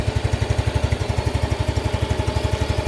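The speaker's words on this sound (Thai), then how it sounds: "เสียงท่อรถ" A 2019 GT 125i motorcycle's stock exhaust idles close by with a steady, rapid low-pitched putter, running alone and unchanged throughout.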